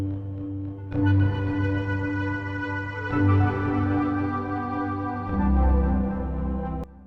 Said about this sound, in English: Just listen to the menu music.